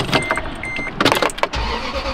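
A truck being started with the key in cold winter weather, with a short whirring crank followed by the engine catching and settling into a low, steady idle.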